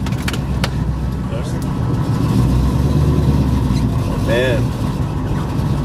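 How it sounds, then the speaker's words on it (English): A souped-up stroked 400 car engine of about 470 cubic inches idles nearby with a deep, steady, continuous rumble, while people talk over it. "it's a huge engine. It's in the 470 cubic inch."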